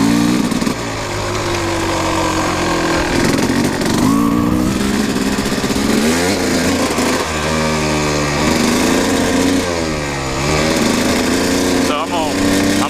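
A Kawasaki KX 250 dirt bike on a long dirt road revs hard and shifts through gears at speed, its high buzzing engine loud and continuous, with talking over it.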